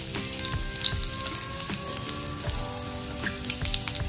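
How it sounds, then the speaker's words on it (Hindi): Chopped garlic sautés lightly in a pan with a steady crackling sizzle, punctuated by soft stirring taps and scrapes. "तो इसमें डाल देते हैं थोड़ा सा कटा हुआ लहसुन। दोनों को थोड़ा सा हल्का सा हम भून लेंगे।"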